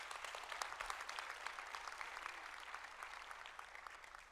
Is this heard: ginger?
no